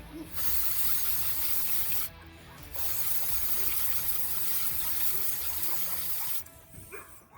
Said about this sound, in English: I'm gonna have to rinse that off